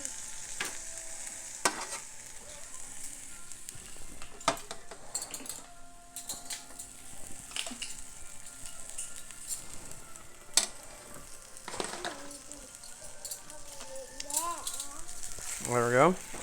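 Scrambled eggs mixed with leftover queso sizzle in a pan while a utensil stirs and scrapes against it. The frying hiss is constant, broken by irregular metallic clinks and a brief wavering sound near the end.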